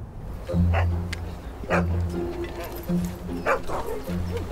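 A small dog gives short, sharp barks in several bursts, with whimpers between them, close and fairly loud.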